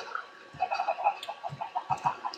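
Several video game chickens cluck in quick, irregular bursts, fairly close, with a faint steady hum underneath.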